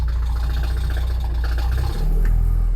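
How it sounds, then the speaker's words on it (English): A Porsche 944, left in a hedge for twenty years, rolls along under its own power with a loud, steady low engine rumble close by, its pitch dropping briefly partway through. "Okay, so the Porsche moves under its own power."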